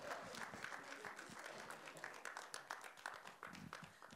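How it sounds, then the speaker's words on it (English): An audience claps for Bob at a personal development talk, the scattered claps close and uneven and rising and falling over a few seconds, with a hint of cheering underneath. "Bob, you really deserve that round of applause"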